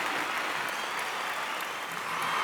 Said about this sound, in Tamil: ஒரு மிகப்பெரிய கைத்தட்டல் கொடுக்கணும்.